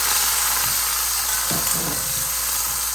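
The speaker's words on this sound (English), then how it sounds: "Add the green chilies and garlic, and add half of the coriander and saute it." Green chilies and garlic hit hot oil that already holds popped mustard seeds, raising a loud, continuous close hiss and sizzle with a few faint stirring bumps underneath.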